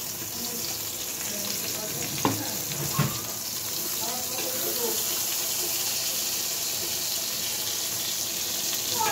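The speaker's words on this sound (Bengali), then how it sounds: "আমার বেগুন ভাজি প্রায় হয়ে যাওয়ার মতন হয়েছে" Eggplant fries in oil in a pan with a steady, moderate sizzle, broken by a couple of sharp utensil clinks early on.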